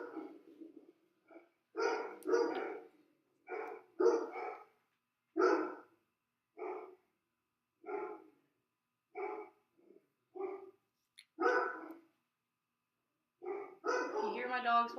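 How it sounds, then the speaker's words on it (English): Several dogs barking indoors in a home, a string of sharp, separate barks at irregular intervals with a few yips and a whimper near the end, fairly close and fully audible. "You hear my dogs barking?"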